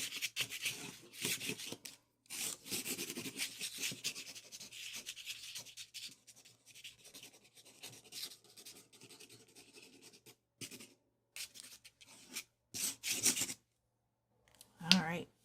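Pastel or crayon scribbling dark marks onto a small abstract painting makes bursts of close, scratchy rubbing, separated by quiet pauses and a few light taps.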